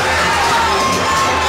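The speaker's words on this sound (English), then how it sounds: "You have this entire Rush Club Nation crowd cheering them on behind him" An indoor crowd at a Rush Club functional fitness duel cheers loudly and without a break during a rope-climb battle, with shouts and whoops rising from a dense wall of voices.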